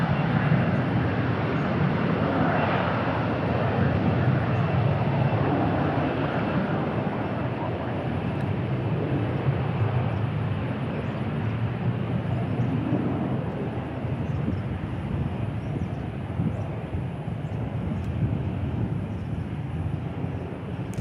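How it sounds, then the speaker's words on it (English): A Frontier airliner takes off on runway 18 Left at Dallas/Fort Worth airport, its broad, steady jet roar lasting throughout, distant and wind-blown, with faint talk underneath. "Frontier taking off here on 18 left"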